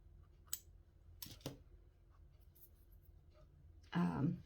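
Scissors snipping out fabric appliqué pieces for back-basting hand stitching, a few sharp isolated snips and a longer crunchy cut at the end, with a voice speaking quietly in between.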